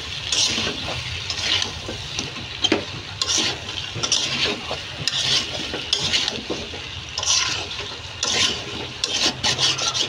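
Salt being stirred into spices for a Bengali-style mango pickle, a steady rasping, scraping rub of a spoon through thick spice paste, repeated strokes close up with no talk.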